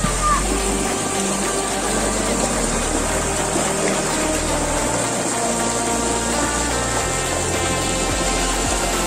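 Yanai Kajam Falls, a hidden waterfall and natural swimming pool near Theni, gives off a constant, dense roar of rushing water at close range. Faint voices of visitors mix into the background.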